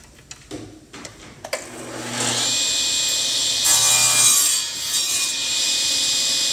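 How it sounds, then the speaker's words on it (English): A table saw with a sled cuts a wooden lap joint: a few knocks and clicks as the workpiece is set, then the motor spins up to a loud, sustained whine and the blade bites into the wood near the mic. "then I'm going to start making my cuts."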